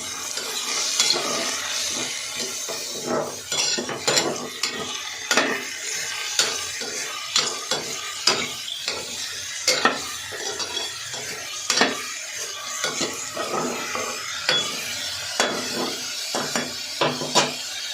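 A packet of cut, washed mushrooms frying in a pan on a medium flame, a steady sizzle punctuated by regular scrapes and clinks of a spoon stirring against the metal, close and without talk.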